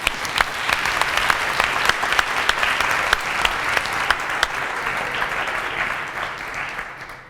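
Lecture audience applauds after a cooking-science talk co-sponsored by ICERM and Johnson & Wales, with a sustained wash of many hands clapping, dense and steady, then tapering off at the end.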